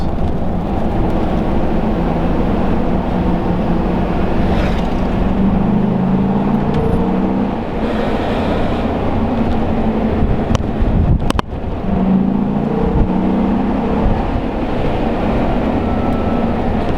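A 2013 Ford F-150 SVT Raptor with a 6.2 liter V8 driving, a steady engine drone with rising and falling rev sweeps, close and continuous with road and wind noise throughout.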